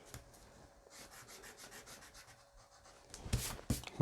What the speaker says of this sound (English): Now we can rub out everything that we don't need. So these guidelines can go.